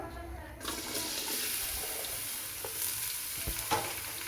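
About two cups of onions drop into hot oil in a cooking pot and start to sizzle loudly, a constant frying hiss with a few brief stirring clinks and scrapes.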